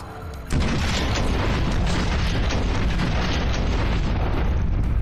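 A grenade goes off in Watch Dogs, a sudden loud blast followed by a long, dense roar of rumble and debris that stays steady for several seconds.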